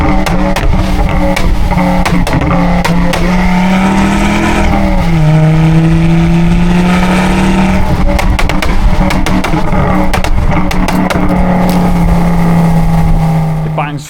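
A Ford Focus ST engine drones and revs loudly and steadily at close range, pitch shifting up and down, with sharp popping bangs from the exhaust scattered throughout.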